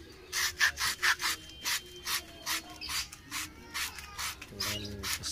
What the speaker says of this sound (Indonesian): Terus kita gosok dulu, bersihkan dulu ini asnya